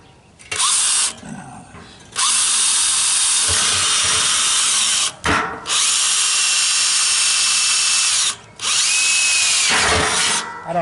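A power drill whines loudly in several long bursts, biting into a metal drum barrel for a drum smoker with a grinding, ratcheting edge, separated by brief pauses.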